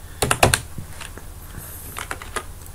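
A computer keyboard is typed on up close, first with a quick cluster of loud keystrokes, then a few scattered softer taps and a short closing run of keys.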